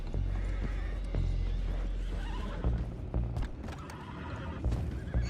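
Horses whinny loudly in the video game Red Dead Redemption 2 over the clatter of hooves and a low rumbling background, the neighs rising repeatedly through the busy scene.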